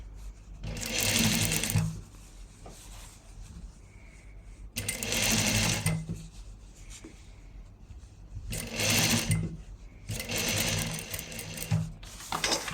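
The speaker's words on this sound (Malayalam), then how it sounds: "അപ്പോൾ നമുക്ക് ഡബിൾ സ്റ്റിച്ച് ചെയ്യണം കേട്ടോ ആദ്യം സ്റ്റിച്ച് ഒന്ന് ഉറപ്പിച്ചു കൊടുക്കുക" Domestic sewing machine double stitching a salwar sleeve, whirring close up in four steady bursts separated by short pauses.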